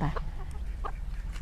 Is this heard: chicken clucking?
yes